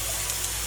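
A spray oil bottle sprays oil into a pan while cooking fish enchiladas, giving a brief, steady hiss close by with no talking.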